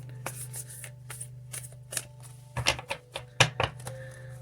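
Cards being shuffled in quick riffling bursts, close and crisp, with a steady low hum underneath and no talking.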